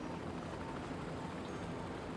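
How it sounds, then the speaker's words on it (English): Helicopters queue to land at a helipad in the Cities: Skylines city-building game, making a steady, faint rotor drone that holds unchanged throughout with no talk. "we have some helicopters just waiting here for this helipad to open up"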